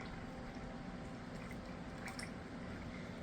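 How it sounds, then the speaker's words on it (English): Water being poured slowly into oil for homemade coconut and olive oil soap, a steady close liquid trickle with faint drips over a constant noisy background, no talking. "I'm going to pour this water into the oil."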